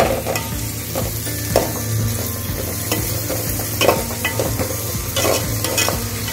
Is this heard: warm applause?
no